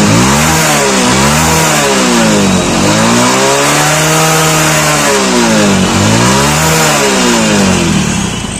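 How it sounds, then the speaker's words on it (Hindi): A motorbike engine idles loud and close, then revs up and down repeatedly in rising and falling sweeps, continuous with no voices. "बाइक को स्टार्ट कर लेते हैं"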